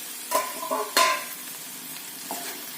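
Radish pod sabzi sautéing in a pan, a few clattering scrapes of a spoon over a light sizzle, close and brief, then quieter frying, without voices.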